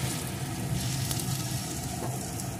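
Egg paratha batter sizzles on a hot tawa over medium-low heat, a close, steady crackling fry that holds unbroken throughout with no voices.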